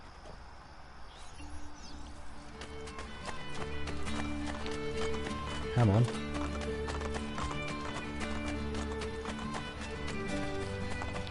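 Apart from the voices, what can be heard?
horse galloping and neighing in Assassin's Creed Brotherhood video game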